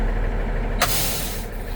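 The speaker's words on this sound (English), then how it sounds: "brakes are set" A single sharp hiss of air brakes releasing pressure, loud and close, over a low idling engine rumble.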